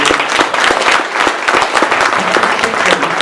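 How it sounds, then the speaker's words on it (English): Loud audience applause for Mr Biffo after his Teletext talk at Play Expo Blackpool, a full crowd clapping steadily and close with distinct individual hand claps throughout. "Let's have a round of applause for Mr Biffo"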